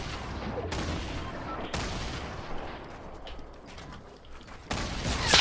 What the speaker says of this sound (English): That's how they have grenade launchers.